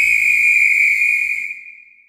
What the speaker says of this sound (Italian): Alle 8:45 si udì un fischio